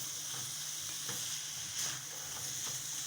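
Minced mutton keema fries with tomatoes in a pan, a steady hiss of sizzling oil with a few soft stirring strokes, close and even in level.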